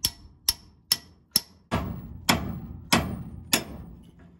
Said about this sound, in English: we're gonna stick it in here between the joint and hammer this off until it pops loose